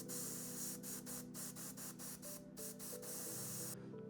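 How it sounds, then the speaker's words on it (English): An airbrush set to low pressure, around 20 psi, sprays paint over a Contemptor miniature for a Horus Heresy Emperor's Children army, giving a close, steady airy hiss with a faint underlying hum and slight rhythmic flutter throughout. "I'm going to take the airbrush on a very low pressure, around 20 psi"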